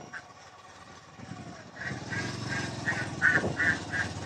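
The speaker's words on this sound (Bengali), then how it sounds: "হাঁসগুলো অনেক সুন্দর।" Ducks beside a road between Alamdanga and Chuadanga give a run of quick, nasal quacks in a rapid series that grows louder toward the end, over low outdoor background noise.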